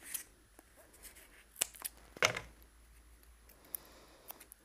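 A few sharp, quiet snips of large wallpapering scissors cutting paper, with short clicks spaced out over a few seconds in a quiet room.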